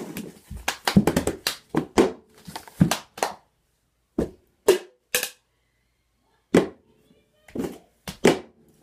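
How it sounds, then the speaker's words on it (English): Two girls practise a song, trading sharp hand claps and cup slaps on a hard surface. The crisp, close, irregular bursts come in a quick cluster, then break into scattered single hits with pauses between. "I did two claps"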